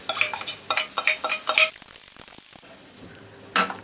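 Noodles with sauce stirred in a hot pan: a close, loud run of rhythmic scraping and sizzling strokes, then a quieter pause with faint clinks before another scrape at the end.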